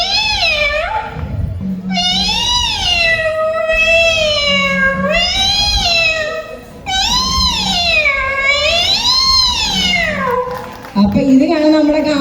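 A man mimics cats meowing, voicing a lover tomcat, his sweetheart and an older brother cat in a run of long, loud, wavering yowls close to the listener, broken by brief pauses and a short spoken bit near the end.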